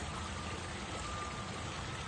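Steady splashing of a fountain in a small garden pond with water lilies, a continuous broadband rush close by with no talk.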